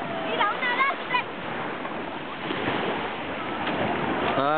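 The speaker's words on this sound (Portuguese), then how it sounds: "Aqui é o mar, na praia de Castelo de Pele" Sea waves washing onto the beach at Castelldefels, a continuous rushing surf with wind noise, while children's voices and an adult talk over it.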